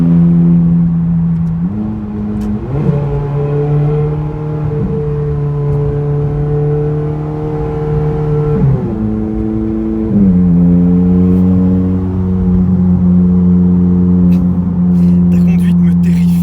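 Car engine revving with the exhaust open, a loud close drone that climbs and drops in pitch through several throttle changes before settling into a steady higher roar.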